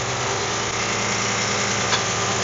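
A 1974 Steiger Bearcat tractor's engine idles while warming up, a loud, close, steady diesel rumble with an even throbbing beat that holds unchanged throughout, with no voices.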